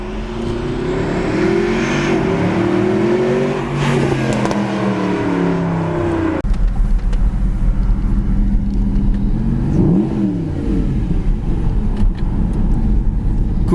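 A Mercedes SLS AMG supercar with a 571-horsepower engine roars loudly and close, its pitch climbing and falling through revs, then settling into a heavy, rumbling drone.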